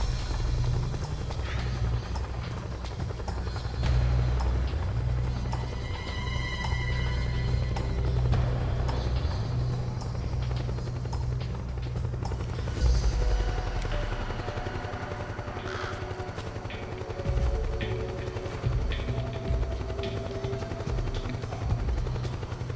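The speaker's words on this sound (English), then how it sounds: "Oh, 'cause that damn chopper." Helicopter rotor chopping loud and steady throughout, as if flying overhead in the Metal Gear Solid 4 video game, a deep continuous thrum that shifts slightly midway.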